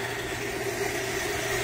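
A Smartbot 1/2 HP sump pump hums with a low, steady motor drone and a faint tonal whine, running evenly at a modest level with no talking.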